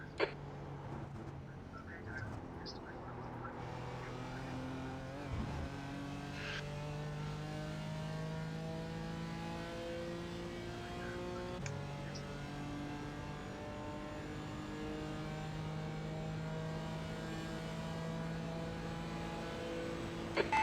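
Race car engines drone and rev at moderate distance in a pit lane at the 2022 Roar Before the 24, rising and falling in pitch as cars pass, with a constant mechanical rumble throughout.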